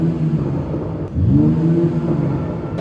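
A 2022 Mercedes-AMG CLS53 engine roars steadily, dips briefly, then surges into a rising rev as it accelerates hard at full throttle, loud and close.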